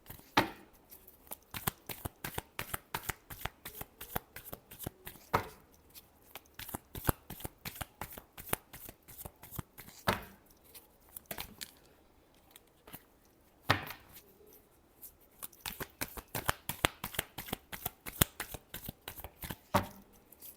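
Tarot cards get shuffled by hand in quick, crisp riffling bursts, close and clear, repeating in rapid flurries with short pauses between.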